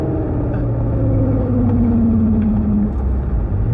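Turbocharged Mazda MX-5 flat out on a wet race circuit, a loud engine drone rising steadily in pitch as it accelerates, with road and spray noise close around it.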